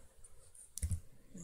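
A computer mouse gives a quick pair of soft clicks while a FreeCAD sketch is being edited, close and faint against near silence.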